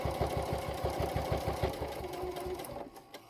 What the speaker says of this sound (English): And I just pivot at the corners and then just continue to sew.